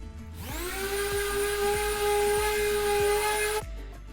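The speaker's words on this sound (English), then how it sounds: "As you can see, I'm using a Harbor Freight Bauer sanding pad." Electric sander with a Harbor Freight Bauer sanding pad and 220-grit paper working walnut, spinning up to a steady high whine with faint rhythmic scrubbing underneath, then cutting off abruptly.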